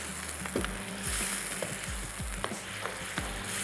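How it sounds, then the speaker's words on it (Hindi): Bottle gourd and mutton frying with spices in a pot, a steady sizzle broken by repeated scraping stirs of a spoon against the metal, close and without talk. "चलिए अच्छा सा भून लेते हैं।"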